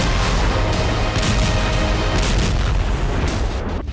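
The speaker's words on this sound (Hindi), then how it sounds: "टूटी हुई इमारतों से अचानक रॉकेट प्रहार हो रहा है।" Rocket strikes and explosions in war footage of fighting in the Jabalia camp, heard as loud, continuous booming blasts and rumbling that fill the whole clip with no talk.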